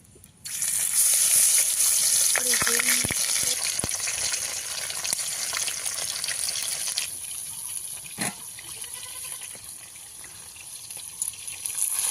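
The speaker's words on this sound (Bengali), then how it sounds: "তেল গরম হয়ে গেছে একটু লবণ দিয়ে দেবো এরপরে মাছগুলো দিয়ে দেবো" Fish goes into hot salted oil in a pan and sets off a loud, close, steady rush of sizzling, with a few sharp pops early on, that eases slightly toward the end.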